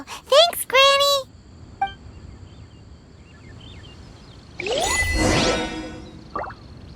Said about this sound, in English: Indeed, this is the cleansing bell.